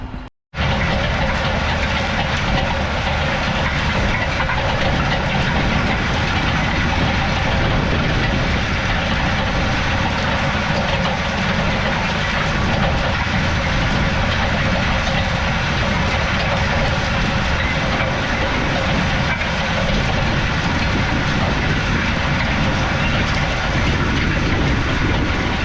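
An Allis-Chalmers 7060 tractor pulling crumblers runs with a loud, steady, heavy engine drone that holds for the whole stretch, with no talk over it.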